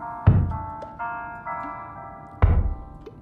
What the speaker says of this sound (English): That music was pleasant at first, but now it's kind of driving me absolutely insane.